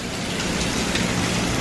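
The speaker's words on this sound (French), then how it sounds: "Bon et bien je crois qu'il pleut." Rain pours down near a bus at Walt Disney World as a storm sets in, a dense close hiss that stays loud and even throughout with no voices.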